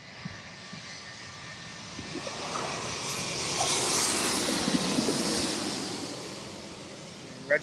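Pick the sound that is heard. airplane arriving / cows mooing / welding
airplane arriving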